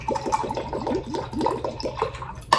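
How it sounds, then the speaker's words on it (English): Water pours into a green juice of cucumber, celery, ginger, lime and spinach, a steady close liquid gurgle with rhythmic glugging lasting a couple of seconds, with no talking. "I'm gonna add water."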